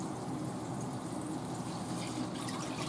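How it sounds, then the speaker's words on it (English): Broth pours steadily into a soup pot of ground beef and cabbage, a continuous close watery rush with no talking. "Now I'm going to be adding my broth."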